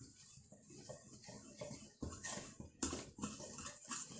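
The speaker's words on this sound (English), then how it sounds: "I'm going to whisk that together" A Danish whisk stirring baking soda, cinnamon and nutmeg with other dry ingredients in a bowl, quiet rhythmic scraping and light clinks against the bowl, with a few sharper taps in the second half.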